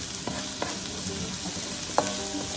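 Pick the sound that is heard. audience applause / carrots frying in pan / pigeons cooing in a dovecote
carrots frying in pan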